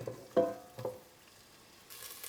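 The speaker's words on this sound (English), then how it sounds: "We'll start by adding some neutral oil. We can add in our onions, garlic, and our carrots." Onions, garlic and carrots hit hot neutral oil in a stock pot, giving two short bursts of sizzle with brief stirring clatter, then a faint, steady hiss of frying that continues at low level.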